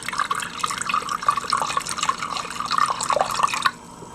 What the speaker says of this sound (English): we're going to pour in 16 ounces of vegetable broth